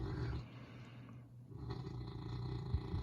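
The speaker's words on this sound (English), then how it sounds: "You might hear my dog Coda snoring in the background" Low, rumbling snores from a dog, two drawn-out breaths with a brief lull between, close by and fairly loud.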